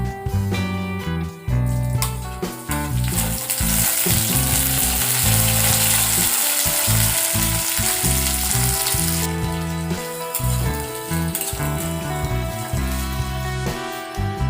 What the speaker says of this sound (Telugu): నెక్స్ట్ కట్ చేసి పెట్టుకున్న onions, green chillies and curry leaves వీటిని కూడా వేయించుకుందాం.